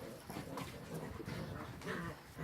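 Puppies and adult dogs playing and squabbling together, a steady busy stretch of yips, whimpers, growls and panting, close and continuous with overlapping small voices.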